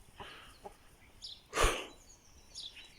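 A few scattered clucks and short chicken calls, with one louder squawk in the middle, fairly close in a quiet setting.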